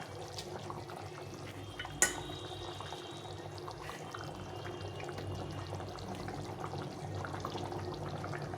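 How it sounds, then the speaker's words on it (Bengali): Hot boiled water is poured into a simmering fish head curry, giving a steady close trickle and gurgle of liquid with one sharp clink near the start. "এখন আমি দিয়ে দেবো গরম জল করে রেখেছিলাম, জল ফুটিয়ে রেখেছিলাম"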